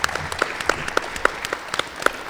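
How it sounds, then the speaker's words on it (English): An audience at a Seattle disability activism history talk gives a round of applause, a fairly small group clapping at close range with distinct, scattered claps. "So let's give a round of applause."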